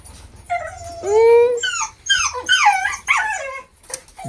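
A dog whimpers and yelps in high, wavering whines, several short cries in a row, close by, with faint background noise.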